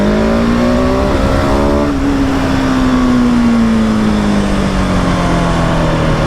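A 2020 Husqvarna 701 SM motorcycle engine revs loud and steady, briefly dipping at an upshift into second gear before pulling on with a long, slowly falling drone, close and continuous with no talk.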